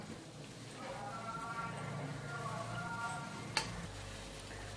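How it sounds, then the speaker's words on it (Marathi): Cabbage manchurian balls fry in hot oil over medium heat, a soft, steady sizzle heard close and low, with a faint clink near the end. "आपले कोबी मंचुरियन एका साईडने तळून झालेले आहेत ते आपण आता दुसऱ्या साईडने तळून घेऊया"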